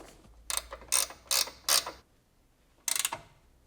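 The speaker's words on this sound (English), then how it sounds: "do up the bolt" Ratchet wrench tightening a bolt on the steering center link of a V12 BMW E31 850i, four quick bursts of close clicking ratchet strokes, a pause, then one more short burst.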